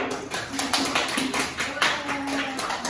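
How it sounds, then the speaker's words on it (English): A classroom audience claps in brief scattered bursts after a microteaching group introduces its members, faint taps mixed with a little background talk. "give applause for all of us"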